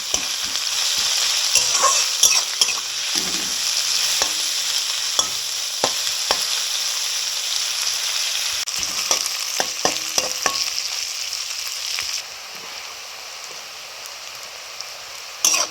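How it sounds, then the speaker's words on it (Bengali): Sliced onions sizzling steadily in hot oil in a pan, with a spatula scraping and stirring in irregular knocks; the frying hiss drops slightly quieter near the end, no voices. "পেঁয়াজটা পুরো ব্রাউন কালার করে নিতে হবে ভেজে"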